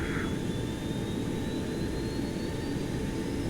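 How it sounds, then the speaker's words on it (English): A steady jet-like whine and roar from the auxiliary power unit of a Boeing 727-200F cargo jet in the X-Plane 11 flight simulator, loud and unbroken with a faint rising tone and no speech. "Hear that APU firing up."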